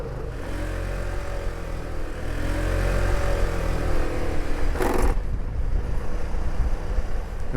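Scooter engine droning steadily while riding on backroads in Washington, a continuous loud hum with wind rush over the microphone and a brief gust of noise midway.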